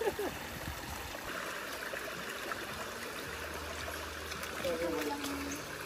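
Steady broadband rush of flowing river water, with voices talking over it and occasional louder splashy surges.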